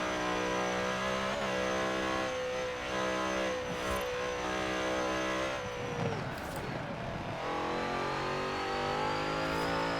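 A Zenvo TSR-S supercar in the racing game Forza Horizon 4 revs hard with a loud, continuous high-pitched engine howl, climbing through the gears with a brief dip and tire squeal midway before winding up again.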